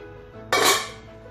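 A lid goes onto a pot of Misal Pav on the stove with one short metallic clatter of the pot cover, close and fairly loud against a low kitchen hum.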